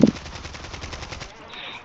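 Rapid automatic gunfire in a shooter video game, a steady burst of rattling shots after a loud initial blast, then a fading tail, with faint voices underneath.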